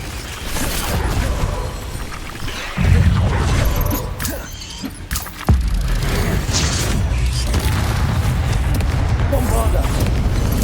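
Confringo spell blasts in Hogwarts Legacy, loud booming bursts with sudden heavy impacts around three and five and a half seconds over a steady roar of game noise and effects.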